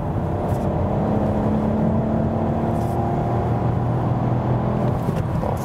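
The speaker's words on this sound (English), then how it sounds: "Let's go to third gear and accelerate out from" A 2019 Ford Focus ST-Line accelerates hard in third gear from 86 on the motorway, its engine a steady, continuous drone blended with road and wind rumble throughout, with no talking.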